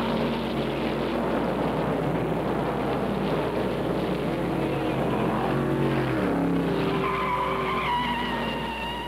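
Stock cars roar around the track in a 1963 race, a continuous loud engine drone with pitch rising and falling as cars pass, joined near the end by a higher whining engine note.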